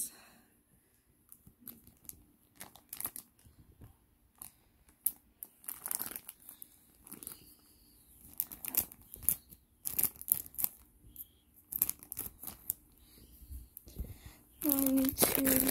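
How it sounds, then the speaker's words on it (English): Intermittent crisp snipping and crinkling bursts, close by, with quiet gaps between cuts and a louder scraping stretch at the end. "need to get this big scissors out and cut her out"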